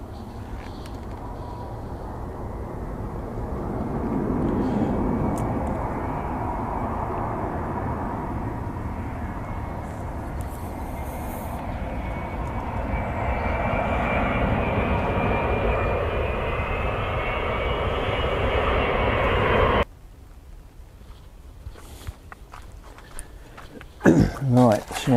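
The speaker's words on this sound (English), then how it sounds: "Of course, a big old plane coming in." A big airplane comes in low overhead at a carp fishing lake, a loud broad engine roar that swells steadily for about twenty seconds, then drops to quiet outdoor ambience with small rustles.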